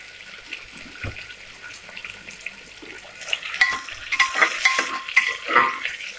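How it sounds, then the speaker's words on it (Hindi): Tomato masala for biryani is stirred gently in a pan, with soft scraping and light metallic clinks of a spoon against the pan that grow busier and louder toward the end. "टमाटर डाल दिए गए, अब इसको बहुत हल्के हल्के चलाते रहें"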